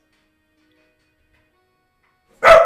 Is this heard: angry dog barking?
yes